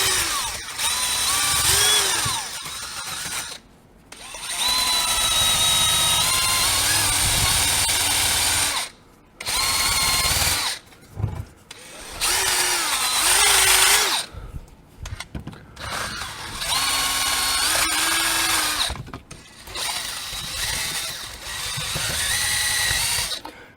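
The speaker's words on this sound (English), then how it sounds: "And I'll hit it with a wire brush in a little bit" A power tool fitted with a wire brush scours brake parts during a basic brake job, with loud sustained whirring bursts broken by short pauses.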